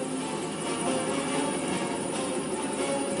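A steady helicopter drone with rotor chop fills the whole stretch, loud and continuous, with no voices over it.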